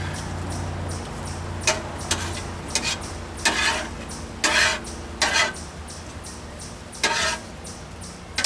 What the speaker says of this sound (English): Once I wash that fork off.